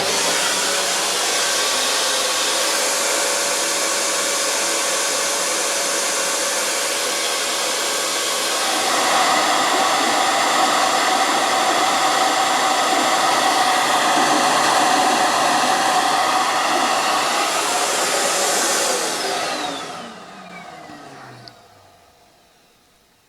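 A flowbench roars in a steady, loud rush of air while testing a cylinder head, with a slight rise in intensity midway, then winds down and fades to quiet near the end.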